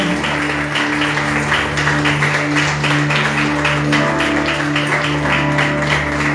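A church congregation claps in continuous rhythmic unison as an offering of praise during a worship service, loud and close over a sustained drone of accompanying instruments.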